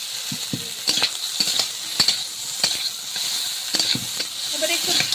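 Crab and water lily curry sautés in a pan, giving a continuous frying sizzle broken by repeated scraping stirs at an uneven rhythm, close and moderately loud.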